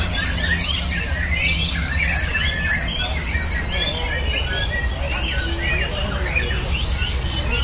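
White-rumped shamas (murai batu) call at a songbird competition, bursts of loud chirps, squawks and whistled phrases overlapping from several birds over a constant low background hum.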